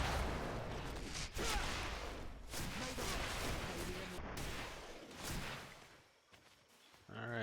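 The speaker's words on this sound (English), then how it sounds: "Watch out! Grenade!" In Greedfall battle, a grenade detonates amid a chaotic fight with booms, clashes and voices, loud at first and then thinning out toward the end.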